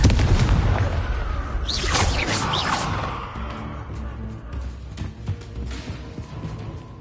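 Explosive Confringo spell blast from the Hogwarts Legacy video game: a loud booming burst with whooshing debris at the start, fading into lower rumbling crackles and scattered thumps over several seconds.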